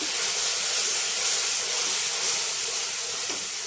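Ginger, garlic and onion paste dropped into a hot pan, a loud steady hissing sizzle that stays close and even across the whole moment.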